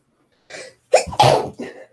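A single sharp sneeze preceded by a short inhale, close and loud, with a brief breathy tail.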